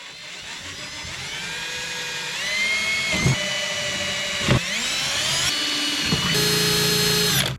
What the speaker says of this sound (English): I'm lifting the drill bit up, make that hole